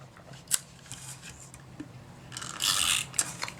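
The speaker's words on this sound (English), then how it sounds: "we're going to stick this down. So I think we will just use tape runner for this as well" A tape runner is rolled across a card panel on a Stampin' Up house shaker card, giving a close, raspy mechanical scrape that swells into one longer pull near the end, with small clicks before it.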